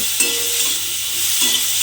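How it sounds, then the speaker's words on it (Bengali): Pointed gourd fries in oil with chili powder, sizzling steadily and loudly, with a couple of soft stirring scrapes mixed into the hiss. "এবারে পটলটাকে আমি খুব ভালোভাবে একটু ভেজে নেব"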